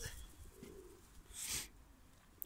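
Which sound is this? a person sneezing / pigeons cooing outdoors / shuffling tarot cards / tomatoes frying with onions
pigeons cooing outdoors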